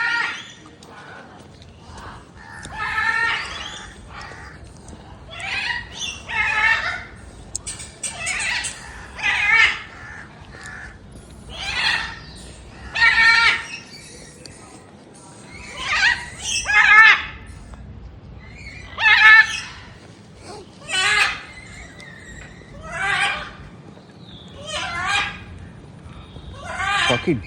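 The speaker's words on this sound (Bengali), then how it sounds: "পাখি ডাকছে, শুনতে পাচ্ছ পুরো।" Birds at a small zoo in Eco Park, New Town, give repeated loud calls in a steady series of bursts roughly every second or two, close by over a low background murmur.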